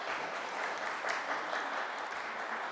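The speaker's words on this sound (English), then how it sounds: "Absolutely worth a round of applause" A brief, even wash of applause from an audience at a community gathering, moderately distant and steady throughout with no talking.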